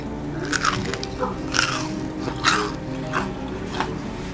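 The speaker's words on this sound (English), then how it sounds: "Listen as I bite in." Crunchy fried kale and spinach saheena is bitten into close to the mic, giving several sharp crunches followed by steady chewing.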